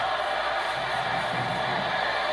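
A large crowd at a live wrestling event roars and cheers continuously, a dense, sustained wash of voices with no break.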